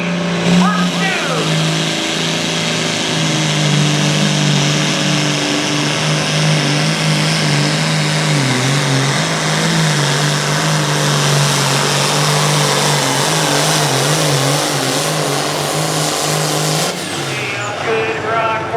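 A John Deere 4430 tractor makes a pulling run at a truck and tractor pull, its loud engine straining steadily for most of the clip before cutting off near the end, with an announcer talking over it.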